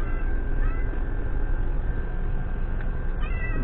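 A cat meows briefly near the end, over a steady wash of stormy weather noise outdoors during feeding time.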